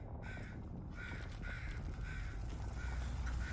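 Crow cawing in an animated RWBY episode, several harsh caws in a quick uneven series over a low background rumble, fairly close and clear, with no talking.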